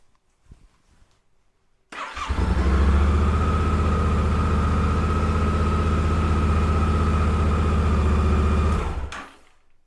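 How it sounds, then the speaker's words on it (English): A Yamaha Tenere 700 motorcycle engine cranks after a brief quiet rustle and catches, then settles into a steady, loud idle for several seconds before cutting off abruptly. "So we are going to try to start the engine."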